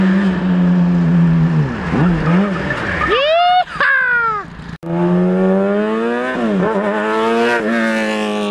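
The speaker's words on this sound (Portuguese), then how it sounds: "Mano, o ronco da Hornet é demais" A mini Camaro drift car with a Hornet engine revs hard, its engine note rising and falling in sweeping pitch swings with brief tire squeal, close and loud, with a short cut partway through.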